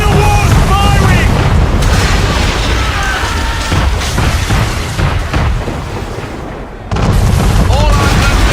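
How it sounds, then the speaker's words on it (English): Man-of-war ship cannon fire in Assassin's Creed 3, heavy booming blasts rolling one into another over loud battle noise, with a brief drop in level before the roar returns and voices mixed in. "We're under attack! Man of war's firing!"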